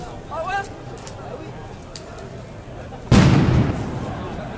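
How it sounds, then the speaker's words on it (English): Explosion at a street protest in Paris: a sudden loud blast bursts out of a quieter crowd and street murmur with a faint voice early on, then rings out and slowly decays. "So some explosions here and there."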